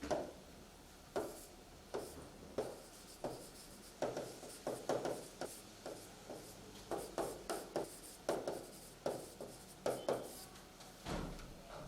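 A pen writes a title on a board or paper in quick scratchy strokes, a steady rhythm of short strokes and taps, faint and close, with no voice over it.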